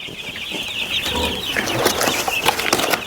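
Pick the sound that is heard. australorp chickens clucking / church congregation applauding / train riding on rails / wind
australorp chickens clucking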